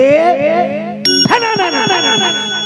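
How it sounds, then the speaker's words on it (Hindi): Bright, ringing temple bell tones sound close by, one struck tone fading before a second, sharper strike rings out with long sustained overtones. "और जैसे घंटी बजाता"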